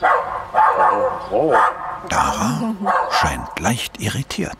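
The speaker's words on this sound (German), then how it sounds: "Da ist ein Hund." A dog at a zoo barks and yips in several short, loud bursts from close by, with a brief whine in between, while people talk over and between the barks.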